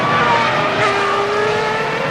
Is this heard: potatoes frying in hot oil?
no